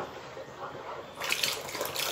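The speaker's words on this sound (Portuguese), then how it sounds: "eu vou colocar água sanitária" Bleach is poured into a homemade papaya glycerin soap mixture, a liquid splashing and pouring sound that starts abruptly partway through and continues steadily to the end, close and without talk.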